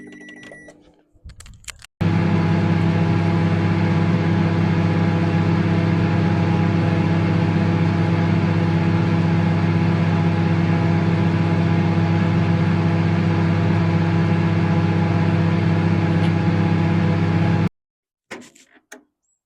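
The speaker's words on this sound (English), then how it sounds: "here I have a microwave" A microwave oven runs with an iPhone inside, a loud, steady droning hum that starts abruptly and holds for about sixteen seconds before cutting off, with brief clatter at either end.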